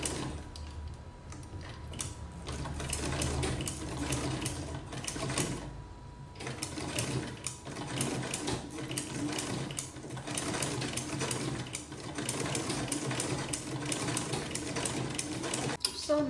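A manual sewing machine stitches a buttonhole with its buttonhole attachment, a steady, fast mechanical rattle of needle and feed running continuously up close, with brief slowdowns and restarts.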